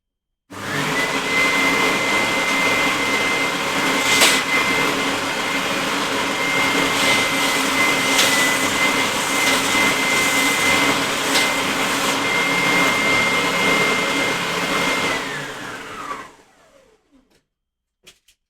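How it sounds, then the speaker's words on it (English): A power tool whines steadily while shaving a millimetre off an acoustic guitar body inlay, a loud continuous buzz that runs without a break for about fifteen seconds and then spins down and stops. "Shave a little millimetre off there, and that will be ready."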